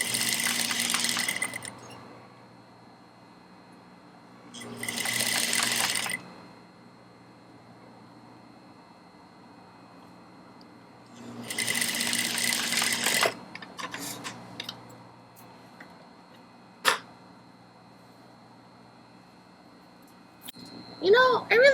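An industrial sewing machine stitches a corset in three separate bursts of rapid, even whirring, each lasting a second or two, with quiet gaps between them. A person talks in between the runs.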